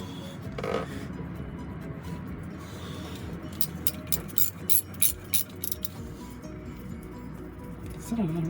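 Rusty nuts being undone on an engine with a ratchet wrench, rapid metallic clicking in short bursts near the middle, close and fairly loud over background hum and scraping.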